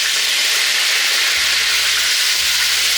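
Country fried cube steak frying in a pan, a steady loud sizzle with crackling spatter running unbroken throughout.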